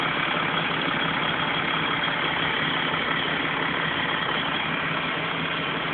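A Toyota Land Cruiser engine idles steadily with an HHO hydrogen cell feeding its intake manifold, a constant close, loud rumble with no speech.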